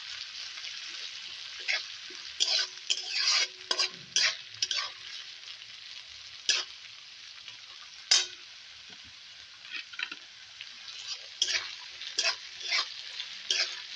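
Sliced onions stir-fried in a pan until browned, a bright thin sizzle with bursts of brisk spatula scraping in irregular clusters, moderately close and without talk.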